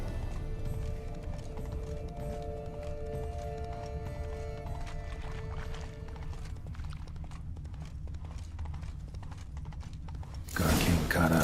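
Horses galloping in The Witcher 3, a steady clip-clop of hooves running under game music and ambience for most of the stretch, with a louder burst near the end.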